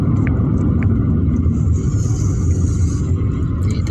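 A car moves through evening traffic in the Middle East, a steady loud road rumble with engine noise filling the whole stretch and no talk.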